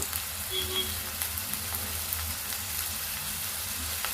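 Sliced onions fry in oil for an old-style egg curry, giving a continuous close, even sizzle with faint crackles and no talk.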